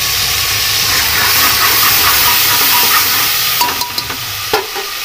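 A ground paste added to cooked onions sizzles loudly in a pan for Mirchi wale chawal with nutri, a dense steady hiss with a few clinks and scrapes toward the end.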